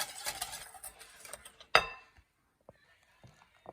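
Melon pulp is stirred with sugar in a bowl, giving soft scraping and mixing sounds, one sharp clink of a utensil against the bowl, and a few faint taps as the stirring stops.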